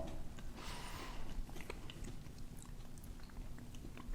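Himemaru rice crackers crunch crisply in a close mouth, with a burst of crackling bites early on and then scattered, quieter chewing crunches.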